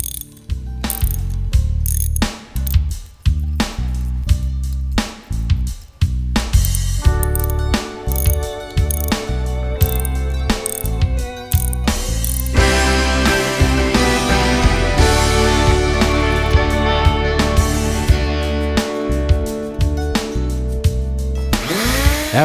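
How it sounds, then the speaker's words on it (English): A hand tap cuts 1/8-27 MPT threads into a hole in the exhaust manifold of a 2003-2009 third-generation Dodge Ram; close, loud ratcheting clicks come in bursts at first, then settle into a steadier mechanical chatter. "slowly tap the hole to"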